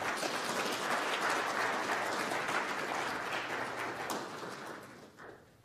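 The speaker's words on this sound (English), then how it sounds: "now's the time to let out all that bottled applause for our panel" An audience at a law and international studies panel event bursts into sustained applause for the panel, a thick, steady roar of clapping that gradually thins and tapers off toward the end.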